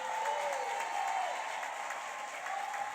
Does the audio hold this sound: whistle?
no